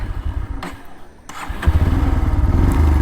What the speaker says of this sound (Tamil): அதான் வண்டி ஸ்டார்ட் ஆகிடுச்சிங்க